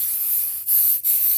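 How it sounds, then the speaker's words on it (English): Quilt basting glue spray hisses from an aerosol can onto a dish drying mat in two short, close bursts, each a soft steady hiss broken by a brief pause. "I'm going to spray it with some glue basting stuff,"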